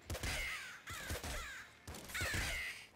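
Three harsh, raspy caws from a bird in the game Nuclear Throne, each about half a second long and fairly close, evenly spaced in a steady rhythm.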